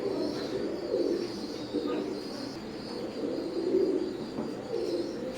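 Teddy pigeons of an Oman bloodline coo steadily in a loft, overlapping soft low calls pulsing throughout, with faint chirps and ambient noise in the background.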